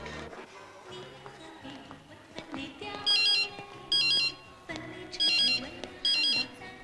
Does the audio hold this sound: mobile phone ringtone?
yes